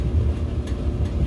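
A clothes dryer starts up with a steady low rumbling hum, constant and fairly close, with no voices over it.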